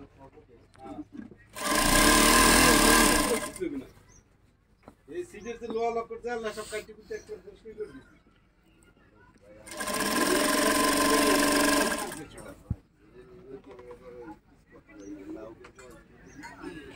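Two loud, steady bursts of an electric sewing machine stitching a salwar at a Bangladeshi tailor's shop, each lasting a couple of seconds, with quieter handling and talk between them.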